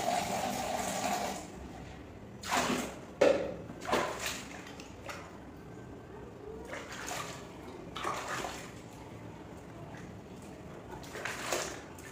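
Lukewarm water sloshes and splashes in a basin for a home pedicure foot soak, with intermittent close bursts of pouring and swishing over a low, steady watery background.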